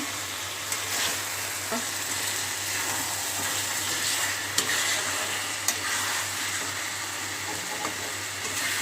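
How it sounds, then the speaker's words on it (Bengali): Fish sautéing in spice paste in a pan for a spicy Bengali fish curry, a steady broadband sizzle with a low hum beneath and a few sharp clicks of a utensil against the pan, with no talking. "মাছটাকে কষিয়ে নিচ্ছি ভালো করে, মশলাটাকে মাখিয়ে নিচ্ছি।"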